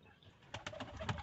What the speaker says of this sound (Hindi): कितने ज़बरदस्त ज़बरदस्त किस्म के कबूतर हैं